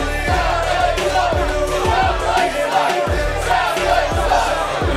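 Arena crowd in Bedford, Texas booing and jeering a competitor from South Lake, Texas at an MPX Leap of Faith event, a loud sustained roar with rhythmic low thumps, continuous and close throughout.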